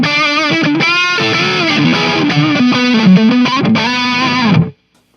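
Electric guitar on the neck pickup through a Joyo UZI high-gain distortion pedal, a loud saturated lead with bends and sustained notes, dry, cutting off abruptly at the end.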